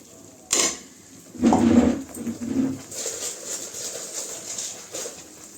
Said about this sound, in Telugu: అడుగంటకుండా కలుపుకోవాలండి.